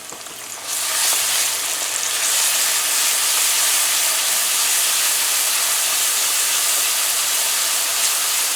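Curry paste hitting hot oil with fried onions in a pot, bursting into a loud, steady sizzle that holds close and continuous without speech.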